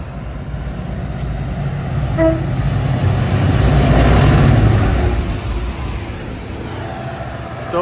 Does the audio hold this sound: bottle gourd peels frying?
no